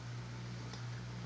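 A household dishwasher runs in the background with a steady low mechanical hum and faint broadband wash noise, continuous and unchanging throughout.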